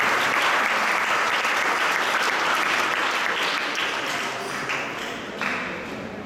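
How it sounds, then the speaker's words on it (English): Audience applause at an ISKCON lecture in Toronto, a dense, loud stretch of clapping from a large crowd, sustained without pause and tapering slightly toward the end. "let's give him a little applause"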